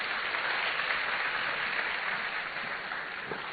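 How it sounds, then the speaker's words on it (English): Steady applause from an audience at a university launch event for a student entrepreneurship programme, a continuous dense clatter of hands sustained at even loudness throughout, with no voices over it. "A round of applause for him, ladies and gentlemen."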